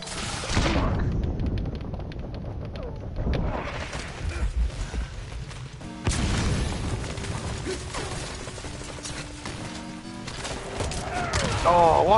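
Flashbangs and gunfire bursting in the online shooter game Metal Gear Online, several sharp booms and crackling volleys scattered through the stretch with a player talking over the action.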